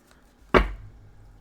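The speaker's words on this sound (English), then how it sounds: "Some people shuffle like this." A single sharp riffle of a tarot deck shuffled by hand, one brief crisp burst of card snaps that quickly fades into quiet.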